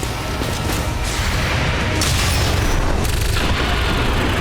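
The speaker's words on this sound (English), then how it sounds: "We detonated the purifier, which did damage to the other 2 as well." A purifier blows up in XCOM 2 with a loud, heavy boom that rolls into a sustained rumbling, crackling blast lasting several seconds.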